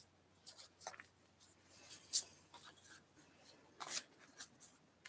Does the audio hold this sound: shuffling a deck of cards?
yes